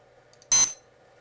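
A single short, quick electronic beep sound effect, sharp and bright, sounding once for under half a second against near silence.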